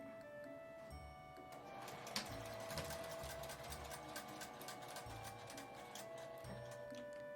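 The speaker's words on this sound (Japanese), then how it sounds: "上と下は端ミシンをかけます。 続けて縫っていきます。" A sewing machine edge-stitching a face mask made of gauze and mesh runs in a steady, close, rapid ticking stream, with short pauses between stitching runs.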